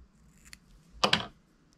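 Scissors trim bucktail hair while a tube fly is tied, a faint snip followed by two quick crisp cuts close up in a quiet room.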